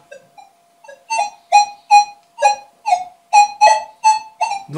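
A series of about ten electronic warbling beeps in a steady rhythm, growing louder and more regular, from an XTERRA 705 metal detector signaling a target about 24-25 cm deep.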